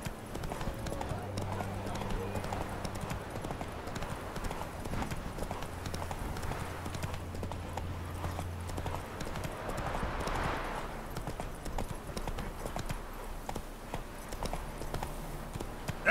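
Horse hooves clip-clop at a steady trot while riding the horse Roach in The Witcher 3 on PC, a continuous rhythmic patter with game music and ambience beneath and a voice speaking over it.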